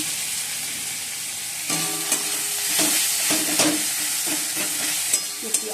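Masala with onion and tomato sautéing in a pan, a steady close sizzle with repeated scraping stirs, sharper clicks toward the end; no talk.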